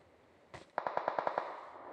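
A quick burst of rapid gunfire in PUBG Mobile on the Miramar map, about seven or eight shots in fast rhythm after a single opening shot, moderately distant.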